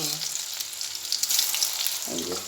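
Steady bright sizzling of cauliflower frying in a pan, fairly quiet and close, with a short stirring scrape near the end and no talking.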